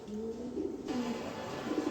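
A pair of racer pigeons cooing softly, low drawn-out coos repeating a few times, near but quiet over a light background hiss, no talk.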